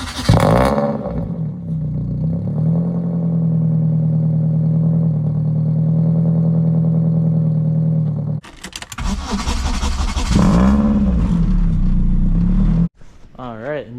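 A BMW E36 with the M42 engine cold-starts, a churning crank catching into a loud, steady idle that drops out, then a second burst of revving and clatter before cutting off, with voices briefly nearby.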